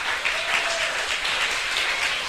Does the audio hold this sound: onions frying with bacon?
no